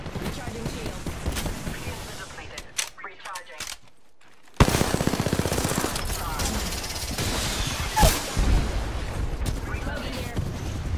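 Rapid automatic gunfire in the Apex Legends battle royale video game, loud bursts of shots that break off briefly and then resume, with game voice lines and effects mixed in.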